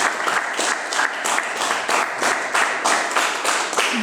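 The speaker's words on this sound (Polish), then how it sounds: "Wielki ogromny brawa, gratulacje." An audience at the Kashubian Culture Museum gives a prize winner a big round of applause, loud sustained clapping with rhythmic surges from a crowd close by.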